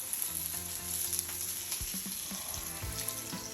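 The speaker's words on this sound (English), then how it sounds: "we're now going to place the steak into that hot pan and render" Fat on a seasoned porterhouse steak sizzles in a hot pan, rendering with a close, continuous hiss and a few soft low knocks from the pan, and no one speaks.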